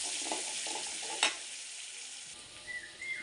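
Garlic and curry leaves sizzle in hot oil for a fish curry, a steady bright frying hiss with a brief stir or clatter near the middle, close and continuous without talk.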